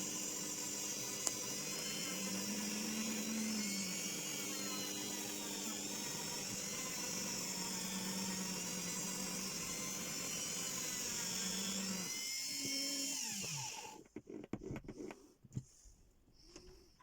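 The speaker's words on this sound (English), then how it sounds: "you'll see me start just roughing in the final shape while I've got the sander going" A power sander roughs in the final shape of a driftwood hazel ring with a sea-coal inlay, giving a steady, moderately quiet whirring drone that runs continuously and then cuts off near the end.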